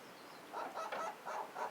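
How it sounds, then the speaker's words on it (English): Faint, quick chirping bird calls in short bursts, several in a row, heard from a little distance in a quiet space. "There's like a bird or something nesting in there."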